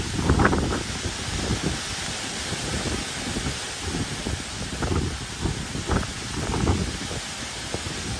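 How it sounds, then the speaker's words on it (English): Storm Babet's wind blows outdoors, a soft, steady hiss with rustling, faint gusts and low thumps rising and falling, heard from a distance without talk. "Storm Babet is still going on, quite windy outside, still quite wet."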